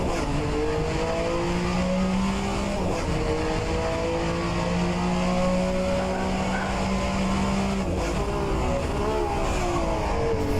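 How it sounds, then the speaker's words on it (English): A Group C sports car in a racing video game laps the Daytona road course, its engine loud and close, climbing in pitch through the gears, then dropping sharply in an aggressive downshift with tire squeal and a steady rushing roar. "Very aggressive downshift, that could hurt my engine in the long term."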